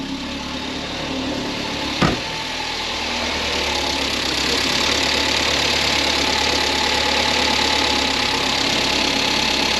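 A Toyota Corolla engine cranks and catches with a sharp start, then settles into a steady, moderately loud idle with a faint knocking hum that holds without interruption.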